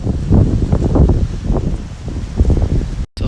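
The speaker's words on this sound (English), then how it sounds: "Now we're around like 20 mile an hour wind, so it's not too bad" Strong gusts of wind during a nighttime windstorm at a campsite, around 20 mph, roaring and buffeting loudly against the microphone in uneven surges, with rustling over the whole short stretch.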